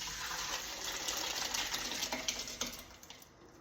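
Bean stew poured from one container into a big pot, a wet gushing, splattering pour that swells and then breaks into irregular drips and plops as it tapers off.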